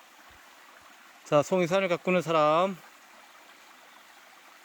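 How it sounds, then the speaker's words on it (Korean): Flowing water from a mountain stream on a hillside where pine mushrooms are grown, heard as a steady, faint rushing throughout, with someone speaking briefly over it. "지금 물 흐르는 소리가 들리시는지 모르겠어요"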